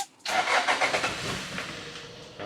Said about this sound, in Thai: ก็มาลองสตาร์ทเครื่องยนต์ฟังเสียงกันดูสักรอบหนึ่งนะครับ